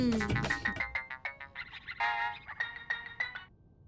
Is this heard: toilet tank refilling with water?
no